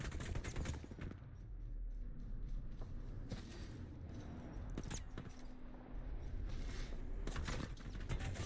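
Rapid bursts of gunfire in Apex Legends crackle over a steady background rumble, with a few sharper shots standing out along the way.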